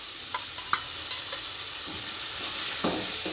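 Finely chopped tomatoes added to okra masala frying in a pan, a steady sizzle with scattered scrapes and stirring clicks, close and moderate in level.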